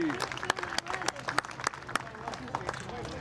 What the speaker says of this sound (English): How about a round of applause for Steve Axon?